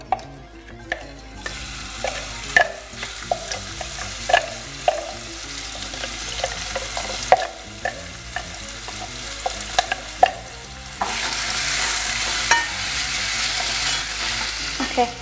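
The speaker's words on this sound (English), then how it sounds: "my oil seems slightly hot. You don't. So I'm gonna put this onions in." Onions frying in hot oil for a shepherd's pie, a continuous sizzle with frequent sharp scrapes and clinks of stirring, growing to a louder, brighter hiss in the final seconds.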